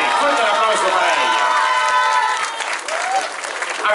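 Loud applause from a crowd at a public works inauguration on Avenida Morelos in San Mateo Cuautepec, steady broadband clapping with some cheering, easing slightly midway and swelling again at the end.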